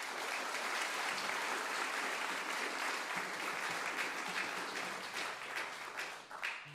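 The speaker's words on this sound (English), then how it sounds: "please give them a massive applause" A crowd at a live bluegrass music livestream applauds the volunteers, a dense continuous clapping that stays strong and then thins and tapers toward the end.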